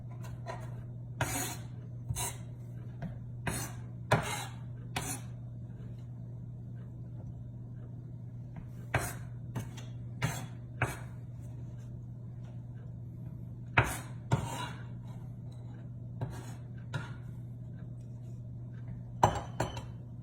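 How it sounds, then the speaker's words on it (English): Knife dicing ingredients for elk chili on a cutting board, sharp taps and chops in short clusters separated by pauses, over a steady low hum in a quiet kitchen. "Try to make it pretty well diced"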